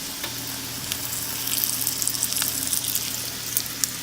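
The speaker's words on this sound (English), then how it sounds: "We're just going to fry this fish up real quick." Fish sizzles and crackles steadily in hot olive oil, a dense frying hiss with occasional sharper pops, close by and with no talking.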